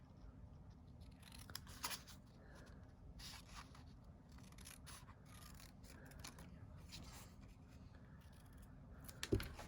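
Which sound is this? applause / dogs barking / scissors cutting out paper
scissors cutting out paper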